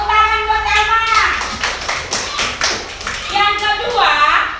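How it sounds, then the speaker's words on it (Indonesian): Children in a classroom give a short burst of clapping, a quick patter of many hands in the middle of the moment. Children's voices and speech come before and after the applause. "Tepuk tangan buat Elman."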